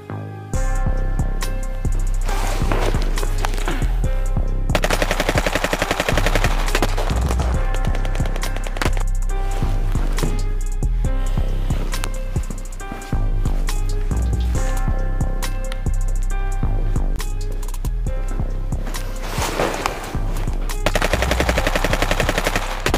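Fast bursts of gunfire from a firearm during a shooting drill, loud and close, with rapid repeated shots and short pauses running almost continuously with no talking.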